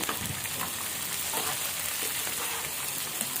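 Thinly sliced green chillies sizzle in a hot pan of oil for Karnataka-style uggani, a continuous close crackle and hiss with faint scattered pops and stirring, no voices.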